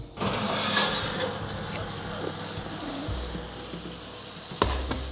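Chicken and chips sizzle and crackle loudly in hot oil, a continuous close frying hiss with a few sharp pops and clatters.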